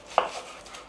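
A single crisp knife cut through a sweet onion on a cutting board, one short sharp stroke heard alone and close.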